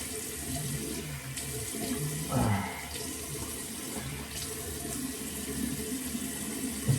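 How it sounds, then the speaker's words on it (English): Water runs steadily from a sink tap while a beard is washed, a continuous close splashing hiss with brief louder splashes of water against the face and hands. "You literally just wash the beard where your hair is"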